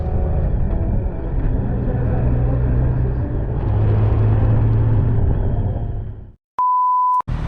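Honda Gold Wing, Honda CB1000R and Royal Enfield motorcycles pull away together, a continuous low engine rumble that cuts off abruptly and is followed by a short, sharp electronic beep.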